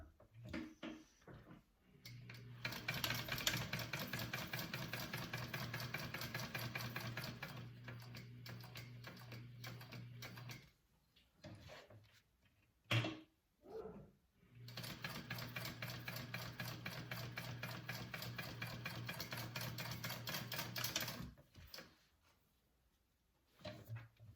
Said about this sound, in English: So I'm going to sew along that, and that's gonna sew my stabilizer on